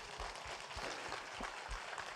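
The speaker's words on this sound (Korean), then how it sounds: "박수 한번 보내주시죠" Seminar audience at a public election-fraud event claps in a sustained, dense round of applause, steady and fairly distant-sounding with occasional low thumps underneath.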